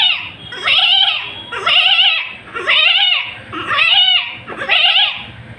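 A man imitates a goat's bleat with his voice, five wavering, nasal bleats in a steady rhythm about a second apart, close and clear.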